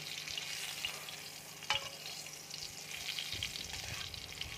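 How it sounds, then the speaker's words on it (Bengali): Guava pieces fry lightly in ghee with black pepper and black salt, giving a soft, continuous sizzle that stays even and fairly quiet, with one brief tap partway through. "এবার আমি ব্ল্যাক পেপার দিয়ে দিচ্ছি, বিট নুন দিয়ে দিচ্ছি, খুব হালকা করে আমি ভেজে নেব"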